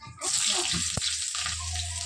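Half a medium onion with five-spice tempering dropped into hot oil, giving a sudden bright sizzle that hisses on steadily, close and fairly quiet, with a small knock partway through.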